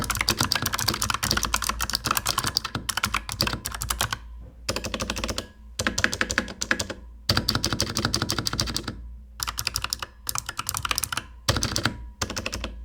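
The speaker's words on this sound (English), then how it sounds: "Here's a quick sound test of what that sounds like." Rapid, loud clicky typing on a Razer Huntsman Mini keyboard with clicky switches, in bursts of dense keystrokes separated by short pauses, close up with no talking.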